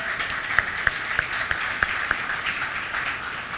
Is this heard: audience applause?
yes